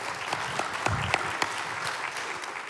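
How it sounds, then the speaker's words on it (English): A big round of applause for the finalists of a 24-hour business plan challenge, the audience clapping steadily with a few louder individual claps popping out near the front. "Big round of applause."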